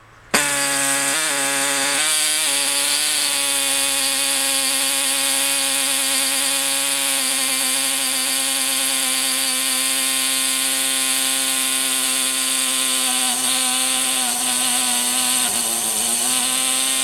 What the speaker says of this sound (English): So I've got the aluminium in the vise now, and I have an air saw